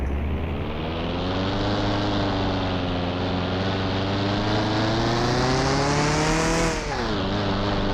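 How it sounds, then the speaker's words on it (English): A car engine in Car Mechanic Simulator 2021 on the test track holds a loud, steady high rev that climbs slowly, then dips sharply and recovers near the end, with no talk. "The high revving of the motor."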